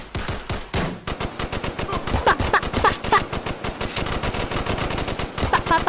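Dense rapid gunfire from a VR shooting video game, sustained bursts of shots loud and close throughout, with no talking.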